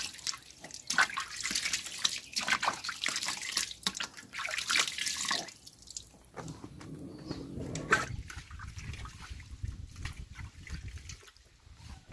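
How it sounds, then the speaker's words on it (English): Soft avocados being washed under a running tap, a steady close rush and splash of water with shifting trickles and drips as the fruit is handled. "now that we are done washing all our avocados"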